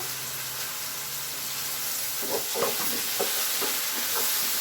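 Spice paste of tomato and cashew fries with browned onions in a pan for mushroom curry, a steady hiss with a run of soft rhythmic stirring scrapes in the second half, up close and without talking.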